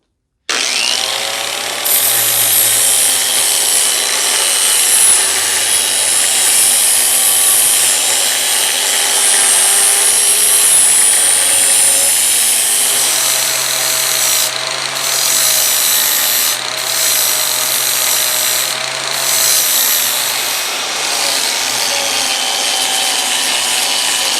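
A power tool grinds a metal plate that becomes part of a custom 1979 Harley-Davidson Shovelhead motorcycle fender, making a loud, continuous, close abrasive whine with slight pitch drift and brief dips near the end, and no speech.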